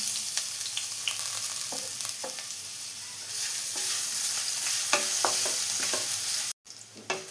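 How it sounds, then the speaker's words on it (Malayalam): Crushed ginger, garlic and whole spices fry in coconut oil for a Kerala mutton stew, making a steady close sizzle broken by occasional stirring scrapes and clicks, with a brief cut near the end. "1 ടേബിൾ സ്പൂൺ ഇഞ്ചി വെളുത്തുള്ളി ചതച്ച് വെച്ചതും കൂടെ ആഡ് ചെയ്ത് കൊടുക്കുകയാണ്"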